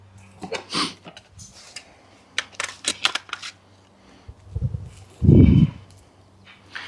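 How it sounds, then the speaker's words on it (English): An airgun stock clicks onto its rail in a series of small, close clicks and rattles, ending with a couple of firmer thumps as it seats. "I think I am going to go ahead and put the stock on it real quick."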